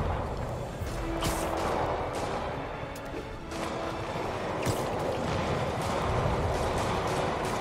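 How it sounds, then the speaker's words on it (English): Dense, continuous bursts of distant gunfire and explosions in the video game Spider-Man, rattling and booming without pause over a constant noisy background. "Sounds like an awful lot of gunfire."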